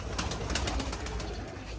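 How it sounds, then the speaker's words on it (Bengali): Pigeons drinking a liver tonic mixed into their water, their soft cooing carrying steadily and close by over a constant background hiss for a couple of seconds. "সব কবুতর পানি খাচ্ছে।"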